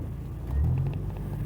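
Volkswagen Kombi engine idling steadily after replacement of its temperature, air and lambda sensors, a low continuous rumble that swells briefly midway, heard alone at moderate level.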